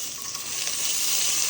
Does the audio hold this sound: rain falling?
no